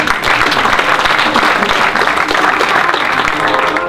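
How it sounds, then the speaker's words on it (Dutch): Audience applause at a local Dutch community gathering, a dense, loud, continuous patter of many hands clapping that stays even for the full few seconds without voices. "Applaus voor Bart."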